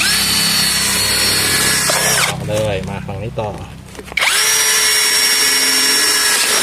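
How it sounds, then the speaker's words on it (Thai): Power drill boring holes through the side of a large tin can being made into an herbal mosquito-repellent smoker, loud steady whine running before and after a short break where someone speaks. "เราจะเจาะฝั่งทางนี้กับฝั่งทางนี้คู่กันอ่ะ"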